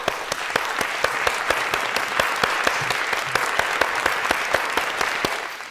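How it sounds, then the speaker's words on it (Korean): Congregation applause during a Sunday church service, a steady wash of clapping with sharp, regularly spaced loud claps standing out close by, and no talking. "박수해 주시기를 바랍니다."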